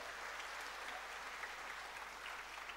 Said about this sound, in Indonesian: Tepuk tangan juga untuk dia.